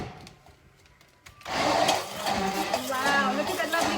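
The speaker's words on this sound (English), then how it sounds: "Here's my blender. Remember, my blender's a little bit noisy, so block your ears if you don't like the noise." A noisy kitchen blender whirs loud and steady as it mixes a pink unicorn dip, switching on abruptly after a quiet start and running continuously to the end.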